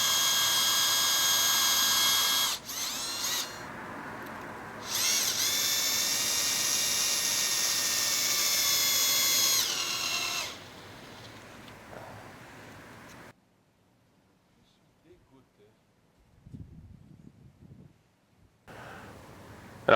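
A cordless drill drives screws through a wooden piece into a wooden block on a post, giving several loud whining bursts of varying pitch with short pauses, then quieter handling knocks and near silence.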